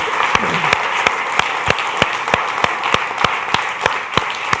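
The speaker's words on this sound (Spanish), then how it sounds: "Dele un aplauso," Church congregation applauding during a Feast of Tabernacles service: a steady wash of many hands clapping, with some sharper, regular claps standing out in a strong rhythm throughout.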